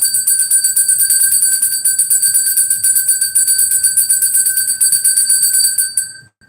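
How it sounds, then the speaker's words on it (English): A bell rings in a fast, continuous trill with bright, sustained metallic tones, loud and close, stopping abruptly near the end with no talk over it. "So let me just ring the bell."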